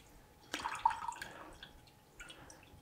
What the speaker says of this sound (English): we're going to drain everything out of here, water and oil